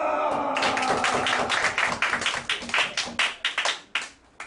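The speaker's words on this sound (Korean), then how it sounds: "박수!" Lecture audience at a church pastors' academy talk claps in a quick burst that thins into scattered individual claps, close and fairly loud, with some voices mixed in.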